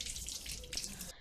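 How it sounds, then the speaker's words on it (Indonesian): A garden-type water tap running fairly hard at a mosque ablution area, a steady hissing rush of water close by that stops abruptly near the end, with no talk. "Keran air yang dipakai merupakan jenis keran yang mengalirkan air cukup deras"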